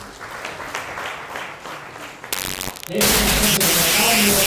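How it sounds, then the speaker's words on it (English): An audience at a university guild leaders' swearing-in ceremony claps for an absent guild speaker, a scattered patter that swells into loud, dense, noisy applause for the last second and a half. "A round of applause for Helena."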